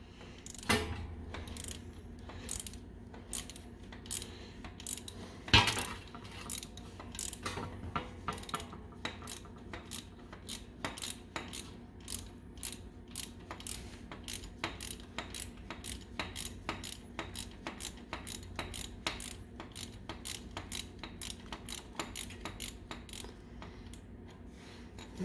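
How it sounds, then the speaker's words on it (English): A 3/4 inch oil drain plug being loosened with a ratcheting wrench on a 1997 Harley-Davidson Road King, giving a long run of rapid, evenly spaced metallic clicks at close range with one heavier clunk early on, and no talking. "first thing is loosen up that drain plug, and again, it is a 3/4 inch."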